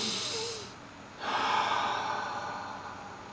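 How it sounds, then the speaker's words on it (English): A single person takes a slow, deep breath during a guided prayer, a soft airy inhale rising then settling into a long exhale, close and quiet with no talk. "Just take a breath."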